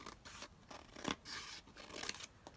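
Scissors snip through paper in a quick run of close, quiet cuts, each a short crisp rasp, with a slightly sharper snip near the middle and no speech.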